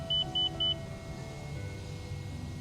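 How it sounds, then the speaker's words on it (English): Three short, evenly spaced electronic beeps sound at a distance over a low rumbling hum, heard during a simulated Airbus A321neo airport ground scene. "Is that beeping coming over there?"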